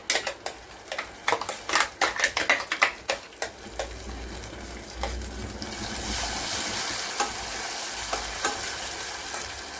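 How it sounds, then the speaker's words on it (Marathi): Ground spice paste with bay leaf sautéing in hot oil in a pressure cooker, starting with sharp, rhythmic scraping and stirring clicks, then settling into a steady, close sizzle of frying. "वाटण मी छान एकाच मिनिटभर तेलामध्ये छान परतून घेतलं आहे."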